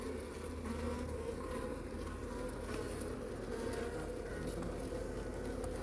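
Steady, dense buzzing of many honey bees close by, a continuous hum with no pauses and no voices.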